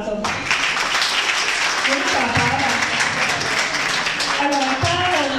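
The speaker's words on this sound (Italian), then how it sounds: "fatele un applauso" An audience breaks into sustained applause at an Italian gathering, many hands clapping loudly and continuously for several seconds, with voices calling out over it.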